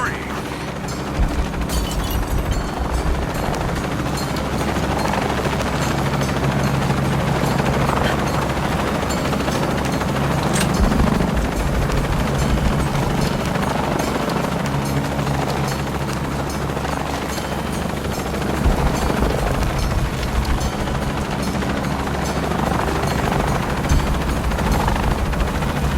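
A helicopter in the video game Shadow of the Tomb Raider on PS4 gives a continuous, loud rotor drone with steady mechanical clatter, sustained throughout amid dense game ambience.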